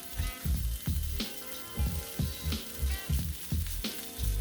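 Egg fried rice sizzles in oil in a cast iron pan, with a steady frying hiss broken by rhythmic scrapes and clacks as a utensil stirs and chops the rice, close and clear.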